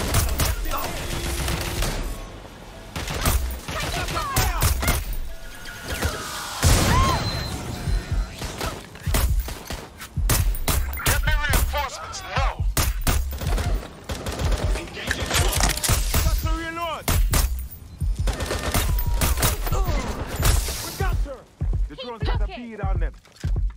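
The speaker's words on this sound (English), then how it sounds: "Shots fired." Repeated bursts of gunfire in the video game Watch Dogs: Legion, loud, rapid volleys and single shots crackling over game sounds while people talk throughout.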